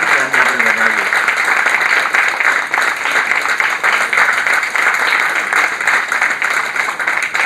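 A crowd at the inaugural function of an education expo claps vigorously in a sustained, even round of applause, loud and dense throughout, with a brief voice at the start.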